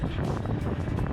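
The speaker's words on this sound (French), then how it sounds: "Il y a du vent," Steady wind gusting across a microphone outdoors beside a swimming pool in Djerba, a broad continuous rumble with no voices.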